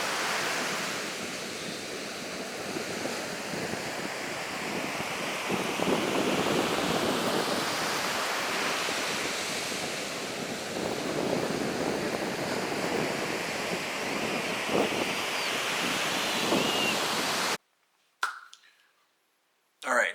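Beach waves and wind make a continuous close rushing roar with slow surges of surf, alone with no talk, before cutting abruptly to near silence at the end.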